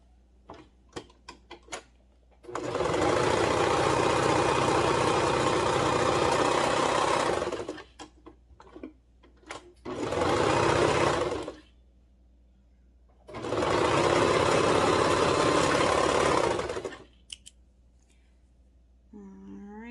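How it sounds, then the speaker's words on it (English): A sewing machine stitches the shoulder seams of a home-sewn shirt, running in three steady bursts of several seconds each, separated by pauses with small clicks and handling sounds. "I'm going to go ahead and do the shoulder seams here first."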